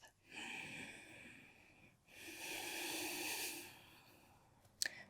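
Two slow, deep breaths in a downward dog yoga pose, each a long, soft, airy exhale close to the microphone, separated by a brief pause and ending with a short sniff.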